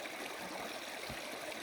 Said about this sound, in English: the river comes around a bend, flows down here